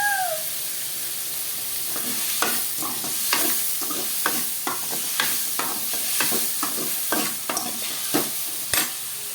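Tomatoes sauté with salt in a hot pan for a kuzhambu, a continuous sizzle broken by rhythmic spatula scrapes and stirring knocks, repeated every half second or so, close by.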